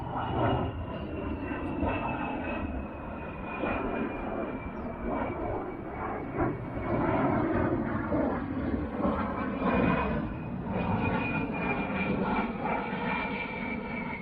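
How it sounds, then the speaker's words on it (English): A loud, steady roar of three low-flying military jet engines rumbles through the whole stretch, swelling slightly as they pass overhead, with no talking. "all of a sudden, out of nowhere, come 3 military jets"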